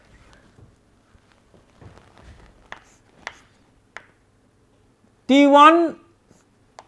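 Faint scratching from writing equations on a board during an engineering lecture on the Otto cycle: scattered soft strokes in a quiet room, then a brief spoken word from the lecturer near the end.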